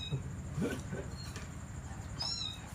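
A kitten gives a few faint, thin meows over a steady background hum in a rural Thai home, with no one speaking.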